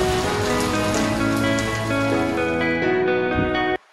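Steady heavy rain falling outside, a dense continuous patter that stays loud and even throughout before cutting off abruptly near the end.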